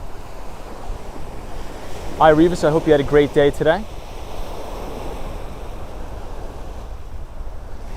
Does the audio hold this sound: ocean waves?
yes